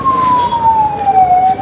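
Ambulance siren wailing in one long, gradually falling tone, loud and steady over traffic and street noise, with no talk.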